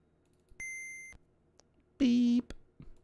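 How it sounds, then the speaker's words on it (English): Electronic beeps sound from a computer during a UFO 50 video game stream: a sustained high tone, then a louder lower buzzy tone, separated by soft clicks and quiet gaps. "Beep."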